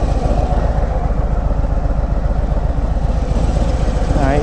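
Idling 2018 Harley-Davidson Road Glide Special with a worn inner primary bearing, a steady close, loud engine rumble with fast regular low pulsing and a faint rattle throughout, no talking.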